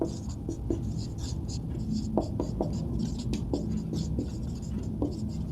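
Pen or chalk writing during a Class 12 maths lesson on relations and functions, a string of short scratchy strokes in irregular bursts, heard under a teacher's quiet speech.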